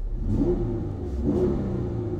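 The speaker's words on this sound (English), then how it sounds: "See, I gave it a little rev there, it shoots up." A car engine idles, then gets a brief rev with a rise and fall in pitch, heard from a moderate distance with no talking.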